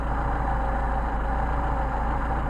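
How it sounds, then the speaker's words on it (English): A Mercedes 190SL engine idles during a Solex idle mixture adjustment, a steady close rumble with an even low throb and no talk. "We're going to screw this in until the engine stumbles, screwed out to the engine stumble to get our midpoint."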